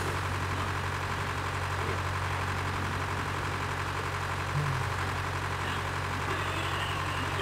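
A red tractor engine idles steadily in a farm field, a continuous low drone with a constant hum, moderately distant and unbroken, with no talk.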